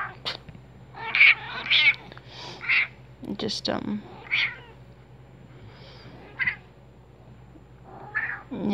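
A pet cat meows repeatedly, several distinct close-up cries spaced a second or so apart, with a person talking quietly in between.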